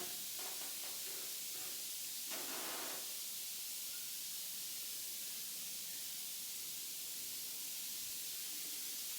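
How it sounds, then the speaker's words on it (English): A steady, faint hiss of Scrubbing Bubbles spray foam cleaner fizzing in a shower fills the space, with a few brief soft knocks early on. "I just sprayed the shower down with some scrubbing bubbles, if you can hear it sizzling."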